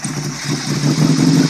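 A motorcycle engine runs steadily up close, a loud low throb with a slight rise in intensity toward the end, heard alone without talk.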